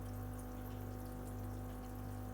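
Cold water pours steadily into a freshwater angelfish aquarium, a continuous even rush with a low pump-like hum beneath it and no pauses.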